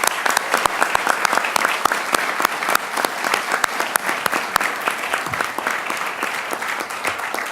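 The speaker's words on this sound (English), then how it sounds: "join me in a round of applause for those guys" Sustained audience applause at a spring business-school commencement ceremony, many hands clapping steadily in a large hall for the faculty, with a few sharp nearby claps standing out over the dense wash throughout.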